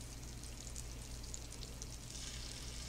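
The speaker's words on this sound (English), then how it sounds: "when you start hearing the sizzle, like I can hear right here, I'm going to start dropping my meatballs in" Meatballs fry in a hot pan with a continuous bright sizzle, steady and fairly soft, with light popping crackles scattered through it.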